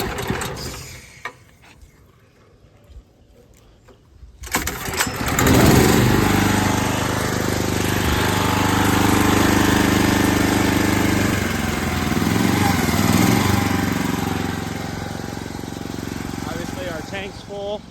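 A small gas engine on a pressure washer fitted with choke and throttle starts after a quiet moment and runs in a loud, steady drone close by, with a person talking over it.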